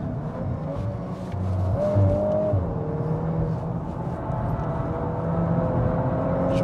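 A 2022 Volkswagen Golf R accelerates on the Dubai Autodrome track, heard as a steady, droning engine note that rises slightly in pitch under constant cabin rumble.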